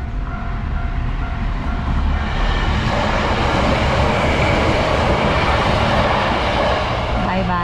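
A Hankyu train pulls into Matsuo Taisha station in Japan, a steady loud rumble and rolling clatter of railcars filling the whole stretch, close by, with a faint voice now and then.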